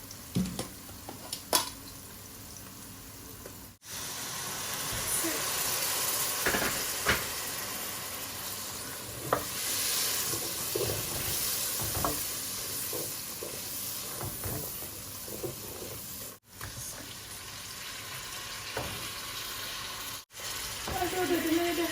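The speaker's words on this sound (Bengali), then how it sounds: "লাড়াচাড়া করলাম মশলা" Masala spices and tomato frying in a pan while being stirred, a steady close sizzle with scraping stir noises and a few brief gaps, no voices.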